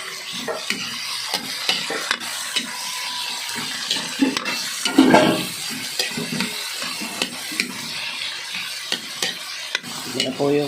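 Tomato, onion, garlic, ginger and chili sauté in a pan for native chicken sinigang, with a soft sizzle, irregular stirring scrapes and clanks, close and moderately loud, no voices.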